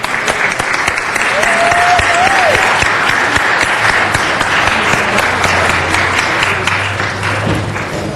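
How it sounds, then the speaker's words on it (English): Sustained applause fills a city council meeting to welcome a visiting elementary school class, steady and dense from start to finish, with a low hum underneath and a brief voice or tone partway through. "I'd like to give them a round of applause"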